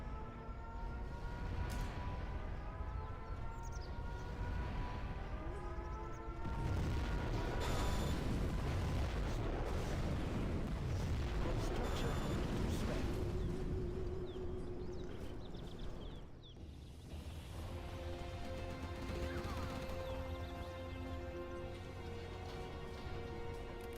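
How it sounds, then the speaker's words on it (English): Nuclear missile launch and detonation in Command & Conquer Generals, a long swelling rumble that builds into a loud roaring blast, then fades into game music and tones with no talking. "We have launched our nuclear missile."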